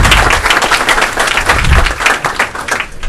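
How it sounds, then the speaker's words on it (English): An audience at a city council meeting applauds kids from a police athletic league, dense, loud, continuous clapping from a crowd in a hall. "give them a big hand of applause"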